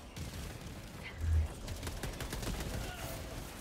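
Distant gunfire in the video game Helldivers 2, faint scattered shots and muffled battle noise rumbling under a low game soundscape.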